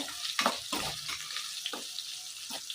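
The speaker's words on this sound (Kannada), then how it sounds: "ಈಗ ಜಜ್ಜಿರೋ ಬೆಳ್ಳುಳ್ಳಿ ಹಾಕ್ತಾ ಇದ್ದೀನಿ ಸಿಪ್ಪೆ ಸಮೇತನೇ ಹಾಕ್ತಾ ಇದ್ದೀನಿ" Crushed garlic, peel still on, drops into hot oil. It sizzles and crackles softly, with a few sharper spatters and stirring scrapes over a low, steady fry.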